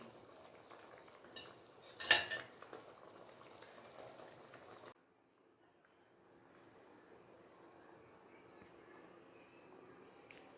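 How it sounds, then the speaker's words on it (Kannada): Tomato kurma bubbles in a pot as a quiet, low simmer, with a sharp clink of a utensil against metal early on, a brief pause, then soft continuous bubbling; no voices. "ಚೆನ್ನಾಗೆ ಕುದಿ ಬರ್ತಿದೆ ನೋಡಿ"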